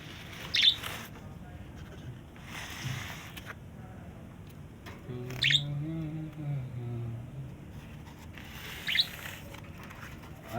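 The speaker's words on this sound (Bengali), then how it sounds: "অনেক সুন্দর পাখিগুলো।" Several pet birds kept in a cage give a few brief, high chirps spaced a few seconds apart over a low, steady room hum, fairly close but soft.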